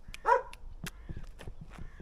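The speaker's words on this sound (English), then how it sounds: "look this beautiful dog." A dog outdoors gives one sharp, close bark near the start, followed by quieter rustles and small knocks, with no talking.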